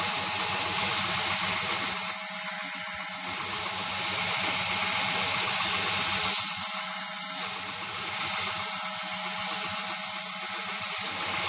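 A power tool rounds the corners of a sheath insert, giving a steady high hissing whir that runs through most of the stretch, with brief drops in intensity and no talking.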